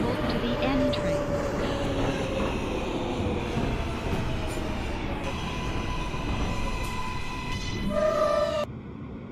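A Kawasaki R143 subway train runs on the BMT line in the OpenBVE train simulator, a loud steady rumble with rising and falling motor whine and wheel clatter, ending in a sudden cutoff.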